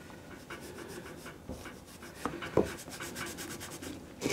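Gumption abrasive cream being rubbed by hand over a 1940s Emerson Model 518 radio, a faint steady scrubbing with soft rhythmic strokes and a few small knocks, close and quiet, no speech.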